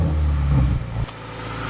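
Subaru WRX engine fitted with a new Tomei exhaust, a loud close rumbling rev that drops off partway through and settles into a steady low idle.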